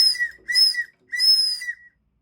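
A high, pure whistle comes from an engine cylinder during valve-train adjustment on a rebuilt engine. It sounds in three close bursts, the last one longest, then stops, with no talking.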